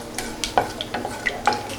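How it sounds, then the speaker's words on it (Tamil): Mustard seeds and urad dal spluttering in hot sesame oil for a Tamil lentil-ball kuzhambu, with sharp pops and crackles close by at an uneven rhythm and light clinks of a metal pan, with no talking. "கடுகு பொரிஞ்சிருச்சு."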